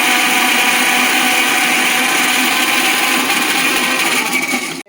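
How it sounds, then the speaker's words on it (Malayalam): Mixer grinder whirring loudly as it grinds a spice paste, a steady high-pitched motor roar running continuously before cutting off abruptly at the end. "ഇതൊന്ന് ആറിയ ശേഷം മിക്സിയിൽ നല്ലപോലെ അരച്ചെടുക്കണം"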